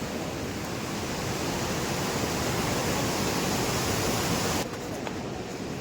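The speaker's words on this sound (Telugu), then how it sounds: "సో మన బ్యాక్ సైడ్ ఉంది కదా వాటర్ ఫాల్. సో చిన్న వాటర్ ఫాల్ అండి," A small waterfall near Kedarnath sends out a steady, broad roar of rushing water that holds nearly level throughout and dips slightly at the end, with no voices.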